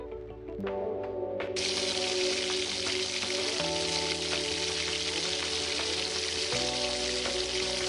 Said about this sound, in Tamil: இதை லைட்டாக வதக்கி விட்டுட்டு வெங்காயத்தை ஆட் பண்ணிக்கிறோம்.